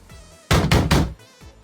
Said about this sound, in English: If you keep hitting the same spot, you're gonna break the door. Try knocking 10 centimeters to the right.